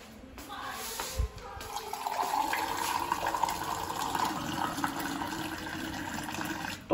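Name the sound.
water filling a jug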